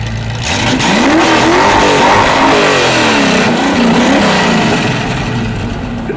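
A US car's engine revs hard through its exhaust at a US cars meeting at Stříbrný rybník in 2025, a loud, close, continuous roar with rising and falling sweeps and no speech.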